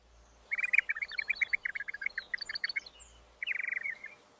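An endangered Australian songbird sings a rapid series of bright, clear chirping notes, pausing briefly before a second quick burst; the song is close, lively and heard alone against a quiet backdrop.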